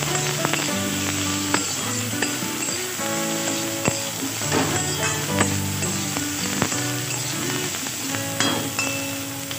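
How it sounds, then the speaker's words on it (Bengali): Eggplant fries in hot oil for a vegetarian winter-vegetable dish, giving a steady close sizzle broken by frequent metallic clinks and scrapes of stirring. "বেগুনটাও আমি এর সঙ্গে ভালো করে ভেজে নেব।"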